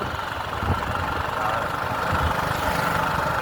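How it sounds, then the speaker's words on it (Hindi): A car engine hums steadily while being driven, a low, continuous rumble with some vibration, and a voice briefly speaks over it. "गाड़ी चला रहे हैं"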